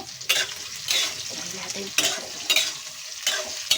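Brinjal and potato curry frying in a pan, vigorous rhythmic stirring strokes roughly every half second over a steady crackling sizzle, close and fairly loud, no speech.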